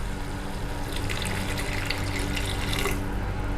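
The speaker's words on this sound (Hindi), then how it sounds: "थोड़ा पानी मिलाएंगे," Water poured into a pan of fried masala to make gravy for a mutter paneer curry, a steady close rush of splashing liquid lasting a few seconds before tapering off.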